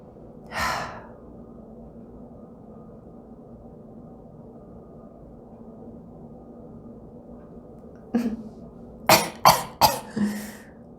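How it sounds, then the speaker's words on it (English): A short cough near the start, then a quiet stretch, followed by a cluster of four or five harsh coughs in quick succession, close and fairly loud. "I'm coughing in my throat about it."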